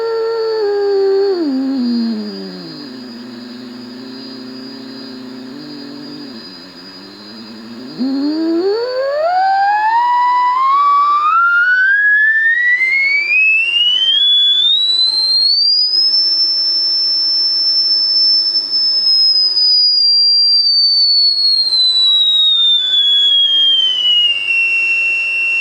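A steady electronic CW beat tone from a radio receiver's BFO sweeps in pitch, dropping low, then gliding smoothly up to a high whistle and easing back down, loud and continuous.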